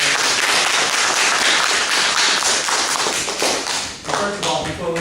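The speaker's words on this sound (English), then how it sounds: "Another round of applause" Audience applause at an award ceremony in Amherst, Massachusetts, a sustained loud clatter of many hands that thins out toward the end as individual claps become distinct.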